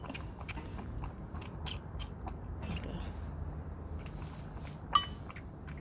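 A newborn lamb eats on a farm abroad, giving soft, steady chewing and biting sounds close by with a brief sharp click near the end, and no talking.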